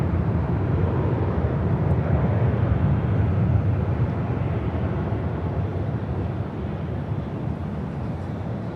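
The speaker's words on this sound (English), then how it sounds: "351 taking off to Lihue on an A321neo." A Delta Air Lines Airbus A321neo takes off at LAX, its engines giving a broad, steady jet roar that holds loud throughout and eases slightly toward the end.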